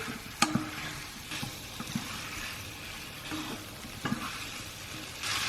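Onions fry with pork in a pan, a close, steady sizzle broken by several spatula scrapes and knocks as the mix is stirred, with no voices.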